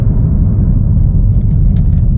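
A 2024 Chevrolet Trailblazer AWD LT on a test drive gives a steady, close low road rumble and engine hum throughout, with faint light clinks near the end and no talking.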